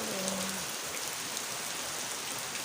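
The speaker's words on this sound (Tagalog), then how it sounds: "Perti jung kusuga sa ulan ug hangin." Heavy rain and wind pour down in a dense, constant hiss, loud and close, with a brief low tone at the start.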